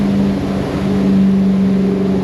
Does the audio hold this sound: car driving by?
yes